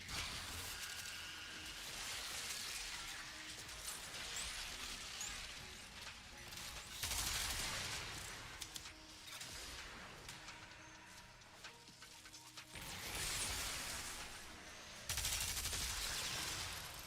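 Rapid gunfire from a gun in a video game, long loud bursts of fast shots running in several waves with brief pauses between them, alone without talk.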